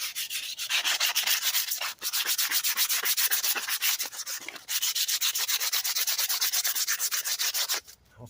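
Rhythmic back-and-forth sanding strokes rub steadily over a part from an MTD lawn mower, loud and close, with brief pauses near two and four and a half seconds before the scraping resumes.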